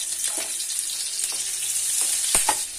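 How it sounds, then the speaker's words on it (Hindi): Chopped green chillies fry in hot oil in a pan, a steady close sizzle with small crackles and pops throughout. "इसमें फ्राई करेंगे।"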